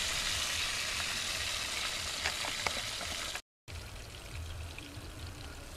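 Shrimp marinated in fish sauce frying in a pan, a continuous bright hiss and sizzle with small pops, broken by a short silent gap before the sizzling resumes more quietly.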